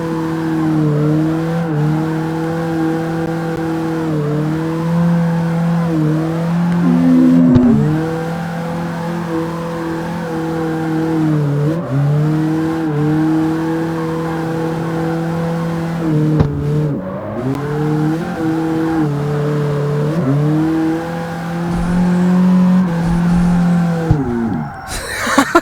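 Cars drift in the racing video game CarX Street, with a steady, loud engine drone that dips and climbs with repeated revs and gear changes for about 25 seconds, and hints of tire squeal.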